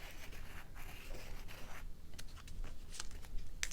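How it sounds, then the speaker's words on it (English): Pen sketching around a mandala design on fabric for slow stitching, a close, steady scratchy scrape of strokes with brief pauses and a soft tap near the end. "I eyeball where I think it is, and I just sketch around"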